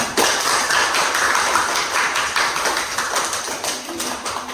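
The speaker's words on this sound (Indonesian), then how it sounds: "Yang keempat, tepuk tangannya." Classroom of children clapping hands together in a counted rhythm, a dense run of bright, sharp claps filling the whole stretch at steady loudness.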